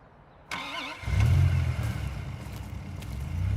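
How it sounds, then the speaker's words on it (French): A car engine cranks briefly and catches, then settles into a steady, rumbling idle, close by. "Je reconnais ce son de moteur, elle est presque prête."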